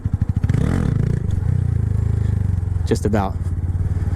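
A Honda Grom motorcycle engine revs loud and close in a steady, buzzing drone during wheelie practice, with a brief spoken remark partway through.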